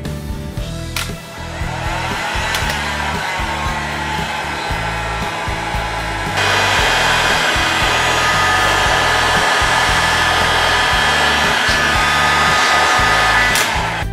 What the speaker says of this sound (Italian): Andiamo a prendere il phon. Ecco il classico eh, phon o pistola termica.